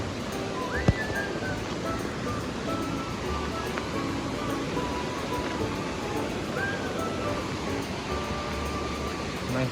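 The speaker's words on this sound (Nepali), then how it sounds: "बाढी आइरहेको छ" Floodwater in a river rushes loudly under a bridge on the road to Ilam after overnight rain, a dense continuous roar close by, with a faint whistle and a brief knock early on.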